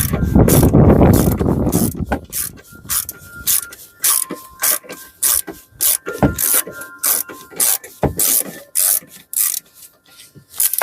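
A ratchet with a 9/16 socket clicks rapidly in repeated short strokes, removing a rear bolt for a CURT Class 1 trailer hitch on a Kia Spectra EX, close and crisp after an opening scraping rasp.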